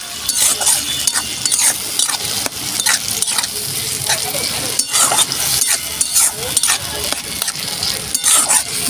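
Green chillies and spices sautéing in a pan for an egg and potato curry, with steady close sizzling broken by repeated scraping stirs of a spoon against the pan.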